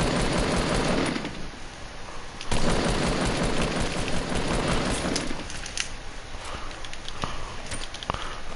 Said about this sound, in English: who is shooting me from behind?